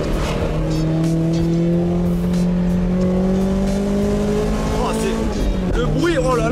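Toyota MR2 engine and exhaust while driving, a steady loud drone with slowly rising pitch, then a sharp throttle lift with a quick dip and recovery near the end, with faint speech underneath.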